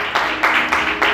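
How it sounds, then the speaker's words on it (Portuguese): A church congregation applauds in a brief burst of clapping, with uneven pulses of hand claps rising and falling over about a second, moderately loud and close. "Você consegue aplaudir Jesus?"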